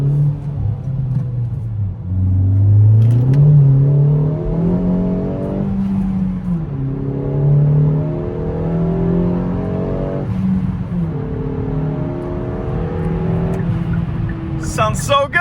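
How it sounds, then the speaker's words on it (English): A lowered Kia Forte GT engine revs hard and climbs through gears with brief wheel spin, loud and close, with a steady droning rumble throughout and no talking. "Had a little bit of wheel spin back there."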